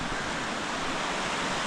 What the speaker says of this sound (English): lovely bit of water running around it